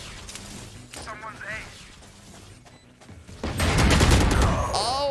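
Gunfire in the video game Valorant during a round after the spike is planted, with a burst of shots and loud clattering action near the end, mixed with game sounds and a voice talking.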